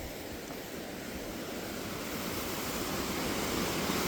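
Steady, full rush of a stream flowing near a waterfall and an old bridge on the way to Reiek, continuous and fairly loud, with no voices over it.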